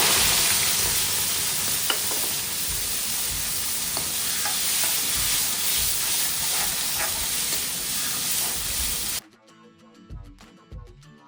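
Loud, continuous sizzle and hiss of spinach and vegetable gravy frying in hot oil with a bay leaf, with stirring, then the frying cuts off abruptly near the end.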